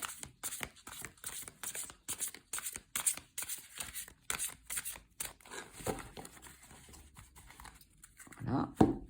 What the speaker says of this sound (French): on va mélanger les cartes.